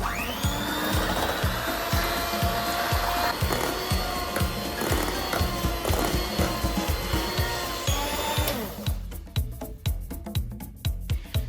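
Electric hand mixer whipping cream with a few drops of vanilla extract for a no-bake durian serradura, a steady loud motor whir with rhythmic pulsing that shifts to a sharper, choppier tone near the end, no talking.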